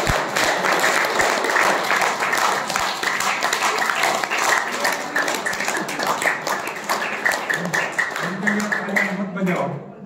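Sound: applause

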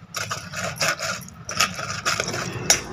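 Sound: mashing custard apples with a masher to extract pulp

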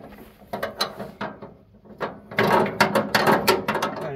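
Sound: ratchet wrench turning nut on Ford 3000 tractor

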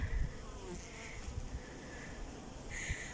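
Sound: wasps and bees buzzing at a beehive

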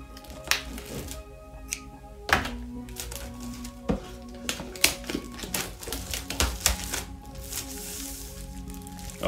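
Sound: plastic wrapping being removed from an M1 Mac Mini box

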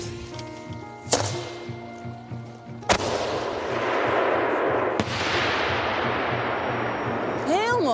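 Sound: fireworks exploding

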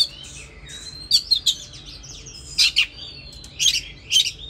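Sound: oriental magpie-robin (chích chòe than) singing

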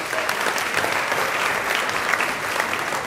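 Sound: applause

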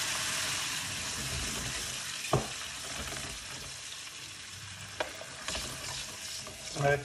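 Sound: tomato sauce added to hot pan with chili

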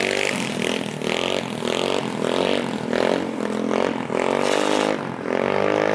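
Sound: GY6 150cc scooter with custom exhaust riding

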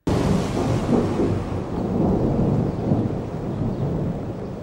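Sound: thunder from lightning strikes

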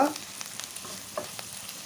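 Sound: turmeric frying in oil

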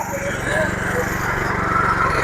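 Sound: stubble mower machine running in sugarcane field

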